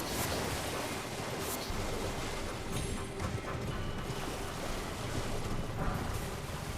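Rushing waterfall in the Elden Ring video game, a steady broadband roar of falling water that fills the whole stretch at an even, close level, with no talk over it.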